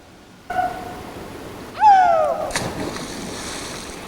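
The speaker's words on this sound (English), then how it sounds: "And she goes for a cannonball." A person cannonball-jumps into a rocky off-grid river, landing in a loud splash that washes out into trailing water noise, after a short sharp cry or squeal.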